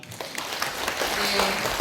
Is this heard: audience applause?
yes